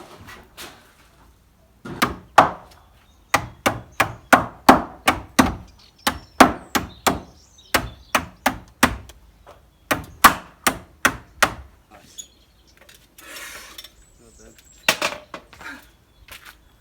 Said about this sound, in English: We've just had to chisel a bit of the cement out.